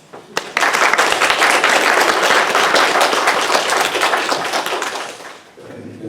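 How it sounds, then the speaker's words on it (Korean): A church congregation at a Sunday morning worship service claps for the choir after its hymn, a full burst of applause rising quickly, holding steady, then fading near the end. "박수 한번 하시죠."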